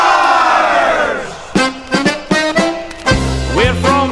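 A stadium crowd roars and cheers after a Pittsburgh Steelers win, a loud sustained wash of voices with rhythmic chant-like bursts and shouts rising near the end.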